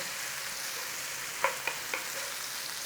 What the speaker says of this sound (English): Cook out the rawness of the onion.